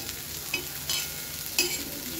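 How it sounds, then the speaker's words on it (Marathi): Chili thecha with salt is stirred in a hot pan, a steady sizzle of frying with soft scraping strokes of the spoon rising every half second or so, close and alone. "मीठ टाकून परत मिक्स करायचं चांगलं।"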